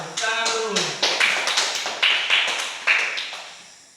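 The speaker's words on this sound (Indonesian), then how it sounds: "tepuk tangan dulu" Students in an Indonesian-language class clap their hands together in a loose, rhythmic burst of sharp taps, close and fairly loud, with some voices mixed in at the start.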